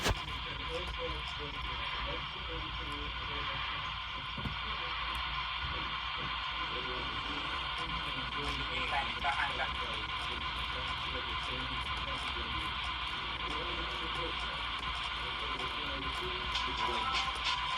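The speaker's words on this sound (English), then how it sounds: "Let's get to my favorite channel on the radio." Car radio in the video game My Summer Car playing a station with steady music and static, a continuous mid-level broadcast sound across the whole stretch.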